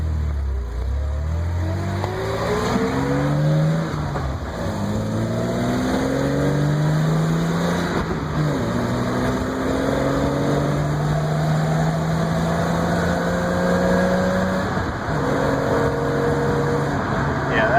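Engine of a 1986 BMW 325e with a six-cylinder and five-speed manual pulls through the gears while driving, rising tones repeating with each shift, loud and close over steady road noise, with some talk mixed in.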